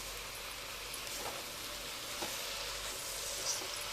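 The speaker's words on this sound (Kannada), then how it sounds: "ಕೊತ್ತಂಬರಿ ಸೊಪ್ಪು, ಪುದೀನ ಎಲ್ಲ ಹಾಕಿಬಿಟ್ಟು ಫ್ರೈ ಮಾಡ್ಕೊಬೇಕು" Coriander leaves and mint frying in a pan for chicken biryani, a dense continuous sizzle held at an even level throughout, with a few soft stirring touches and no voices.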